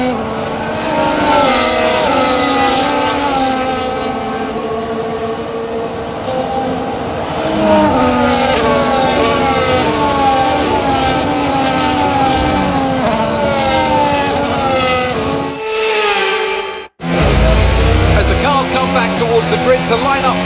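F1 race cars in the F1 25 video game drive a formation lap at the Dutch Grand Prix in dry conditions. Loud, steady engine whine with shifting harmonics runs throughout, briefly dipping before the roar returns, with commentary voices over it.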